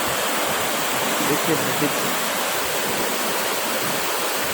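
Damodar river floodwater rushes under a high bridge in a loud, steady roar that fills the whole scene, while someone briefly speaks over it.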